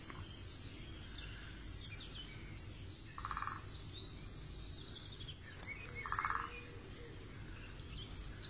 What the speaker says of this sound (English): There's a woodpecker just up in the trees there